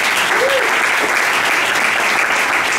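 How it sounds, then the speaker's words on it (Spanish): An audience at a food-tech innovation hub launch in Barcelona claps loudly and steadily, dense continuous applause from a crowd filling the room. "Así que un aplauso muy fuerte, por favor."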